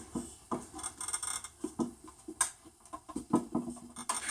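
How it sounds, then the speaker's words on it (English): A homemade bottle cutter blade scores a glass bottle as it is slowly rotated against a PVC pipe guide, giving faint scratchy rasps and small crackling ticks at an uneven pace, close by in a quiet room. "I just slowly rotate the bottle, and you'll hear it scoring the side of the bottle"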